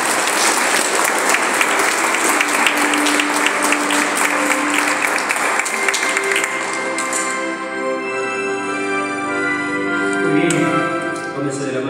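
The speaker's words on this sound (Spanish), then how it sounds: "Un aplauso para el Señor Jesús." A Pentecostal church congregation at a wedding ceremony claps in loud, dense applause for about six seconds, then the clapping fades as sustained music carries on alone.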